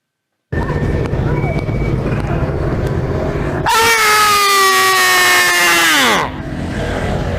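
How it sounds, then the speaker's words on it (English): A man screams loudly at close range on a street, a harsh sustained yell of a few seconds that cuts over steady wind and traffic noise and then breaks off. "You just screamed in my face, didn't you?"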